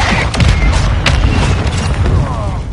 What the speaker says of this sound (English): Mortar strike on the way.